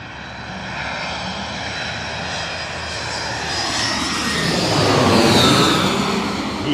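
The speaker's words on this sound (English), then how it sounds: "Oh, I just heard them bring back those engines." A landing Embraer airliner's engines spooling up for reverse thrust in Queens, New York City, a broad roaring whoosh that swells steadily louder and peaks near the end, heard without talk.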